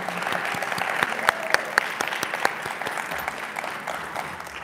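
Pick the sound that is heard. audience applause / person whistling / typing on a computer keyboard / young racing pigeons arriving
audience applause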